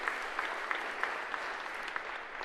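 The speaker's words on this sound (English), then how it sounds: "would you stand, please, so we can give you a round of applause?" Breakfast gathering applauding elected state officials, a moderate spread of clapping with a few sharper individual claps popping out at a fairly regular pace.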